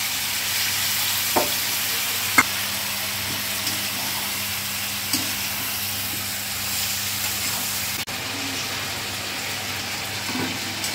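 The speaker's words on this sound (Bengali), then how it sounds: "সবজিটাকে কষিয়ে নিচ্ছি" Mixed vegetables sautéing in a pan with turmeric, ginger paste and chili paste: a constant close hiss of frying with occasional soft knocks of stirring throughout, no talking.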